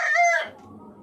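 A native hen on a small farm lets out a single loud, close cluck-like squawk that fades quickly into a quiet background.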